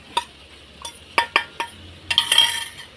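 Masala is tipped from a container into a pan of prawn roast with a run of sharp metallic taps and clinks, then a brief sizzling scrape as it lands, close and without any talk.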